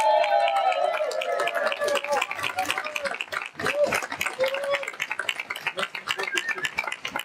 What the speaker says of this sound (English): Let's give a round of applause to these incredible.